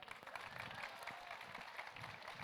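A conference audience at a Pokémon talk applauds in answer to a question, producing a soft, distant and continuous patter of clapping.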